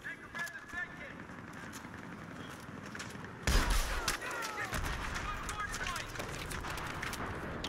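Machine gun fire in an online multiplayer video game, sharp repeated bursts that turn into a louder sustained volley midway, with someone speaking over the shooting.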